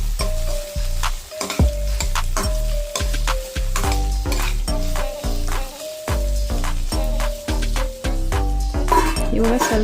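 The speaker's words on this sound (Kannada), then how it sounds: "ಇವಾಗ ವೆಜಿಟೇಬಲ್ಸ್ ಹಾಕ್ಕೊಳ್ಳಿ, ಲೈಕ್ ಕ್ಯಾರೆಟ್, ಬೀನ್ಸ್ ಮತ್ತು ಹಸಿ ಬಟಾಣಿ ಹಾಕ್ಕೊಳ್ಳಿ. ಚೆನ್ನಾಗಿ ಮಿಕ್ಸ್ ಮಾಡ್ಕೊಳ್ಳಿ." Carrots, beans and fresh peas frying in a pan for semiya upma sizzle steadily while being stirred, with rhythmic scraping under loud background music throughout.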